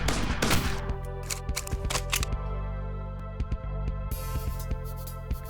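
Rapid gunfire from the Point Rescue light gun arcade game, with dense bursts of sharp shots at close range and a brief lull before more scattered shots resume.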